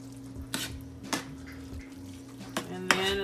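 A quick budget meal with peas cooks in a pan on the stove. A few sharp utensil clinks and scrapes against the pan sit over a faint, steady background sizzle, close by.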